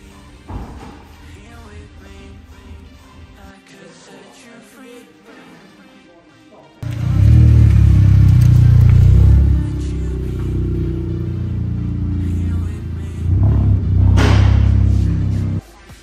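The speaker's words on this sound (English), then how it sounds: "So we've just pulled the car in" A Toyota GR Yaris rolls into a workshop, its engine rumbling low and loud after a quieter stretch of clatter, holding a steady drone with a brief rise in revs near the end.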